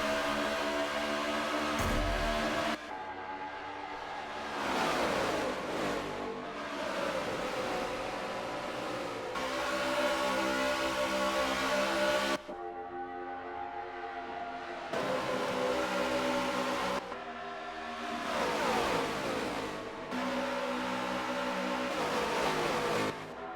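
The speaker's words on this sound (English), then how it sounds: "This time Halo is going to be leading the drivers here at the start" A pack of NASCAR race cars at the start of a race at Homestead Miami in a racing video game, engines roaring loudly and continuously with repeated rising revs and gear changes.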